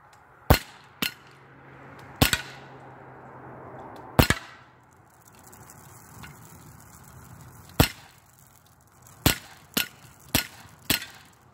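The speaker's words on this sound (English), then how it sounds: "that is the tour of me shooting a BB gun" A Daisy Powerline 5501 BB gun fires about nine sharp, close cracks at irregular intervals, some bunched near the end, over a quiet outdoor background.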